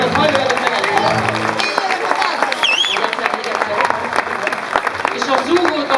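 Audience at a dance show breaks into applause for the dancers, a dense, loud crowd clapping with cheers and whistles, starting under a presenter's amplified voice and continuing steadily.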